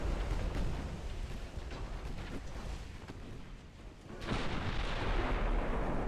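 Secondary guns on a battlecruiser firing during a naval battle in the video game Ultimate Admiral Dreadnoughts: a steady rumble of continuous firing, with a louder surge in the last couple of seconds.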